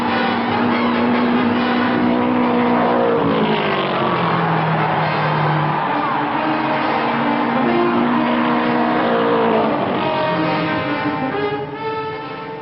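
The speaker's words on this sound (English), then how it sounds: "Watson built that race car that Rathman is driving, and here they come" Race cars at the 1960 Dutch Grand Prix in an old film recording, their engines droning loudly and shifting in pitch as they pass, a continuous roar that fades slightly at the end.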